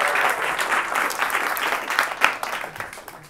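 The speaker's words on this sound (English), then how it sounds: "Let's give her a round of applause" An audience at a Christmas stand-up comedy special bursts into steady applause, a dense wash of clapping hands that stays fairly loud for a few seconds before tapering off, with no talking over it.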